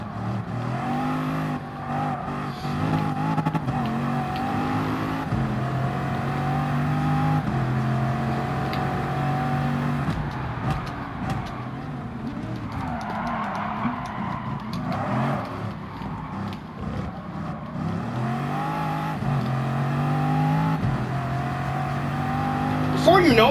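Race-tuned drag car engine in Gran Turismo revving hard and climbing through gears on super soft tires, a loud continuous engine roar rising and falling in pitch, with someone talking over it throughout.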